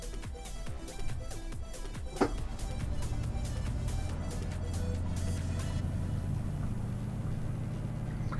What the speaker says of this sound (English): I really don't like the change they've made to this engine noise on this truck.